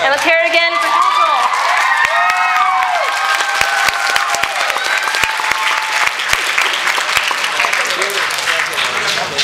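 A crowd at anime convention opening ceremonies bursts into loud applause with cheers, whoops and shouting voices at first, then sustained clapping and scattered sharp claps in a large hall.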